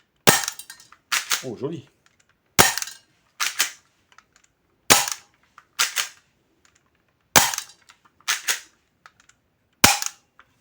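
A mini Glock toy pistol fires gel balls in close, sharp snapping shots that come in clusters of two or three with short pauses between them, and a voice speaks briefly.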